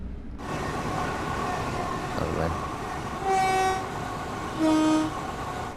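A London Underground tube train in Train Sim World 2 rumbles steadily while two short horn toots sound, one in the middle and one near the end, with no talking.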